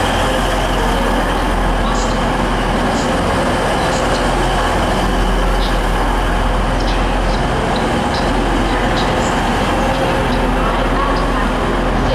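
A Pacer diesel train at Manchester Airport station: a steady, loud rumble of engine and rolling stock fills the whole stretch, with faint higher squeals and clanks above it and a public-address voice briefly audible.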